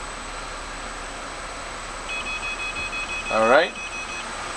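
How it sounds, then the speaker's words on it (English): Parking sensor on a 2011 Mercedes R350 diesel SUV, a faint steady tone pattern followed by a brief louder beeping burst, with a short spoken word nearby and low cabin hum underneath. "so that's how your front and rear parking sensors work"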